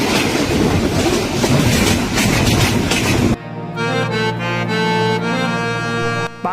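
Panchagarh Express train at Panchbibi railway station in Bangladesh: a loud, dense rumble and clatter of rolling wagons gives way midway to a sustained tonal, horn-like wail over steady running noise, with no voices.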